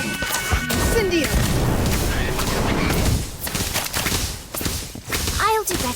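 A fiery Incendio spell bursts in a Harry Potter video game, a loud crackling whoosh with crashing impacts and rapid bangs, followed by a rising magical chime near the end, mixed with a character's voice.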